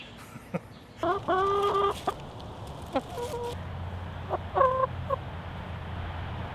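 Backyard chickens cluck and squawk in short bursts close by, with louder harmonic calls around a steady low background hum and no talking.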